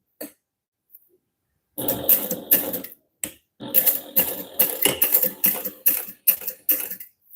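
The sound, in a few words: sewing machine topstitching vinyl wallet card slots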